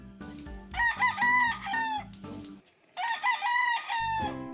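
A rooster crows loudly and close by, two drawn-out cock-a-doodle-doo calls with a short pause between them.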